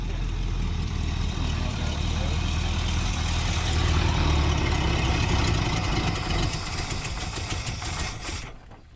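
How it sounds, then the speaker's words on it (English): Engine of a 1958 Chevy Biscayne hot rod idling slightly raised, a loud steady low rumble that holds evenly before cutting off abruptly near the end. "I idled it up a little bit."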